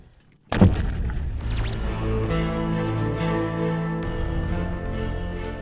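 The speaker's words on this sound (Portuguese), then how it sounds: "A explosão é feita com pólvora, sem nenhum tipo de proteção." A sudden heavy gunpowder blast breaking rock booms out, followed by a long rumbling, crackling tail of falling debris.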